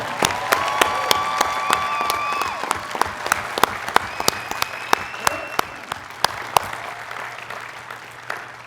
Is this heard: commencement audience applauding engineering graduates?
yes